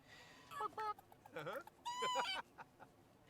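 A rooster in The Sims 4 clucks and squawks in several short, close calls, with a longer rising cry near the end, faint overall and without talk.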